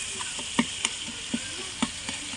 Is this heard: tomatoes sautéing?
yes